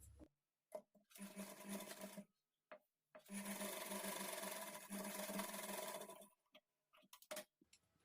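Sewing machine stitching a blouse lining runs in two bursts, a short one and then a longer steady whir, separated and followed by quiet pauses and small handling clicks.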